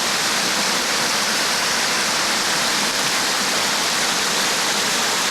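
Water pumped from a construction site onto a neighboring property, rushing steadily and loudly like a small waterfall, a constant unbroken splash with no talk.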